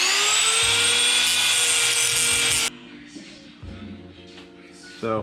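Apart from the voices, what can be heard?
grinding out the middle of a rototiller part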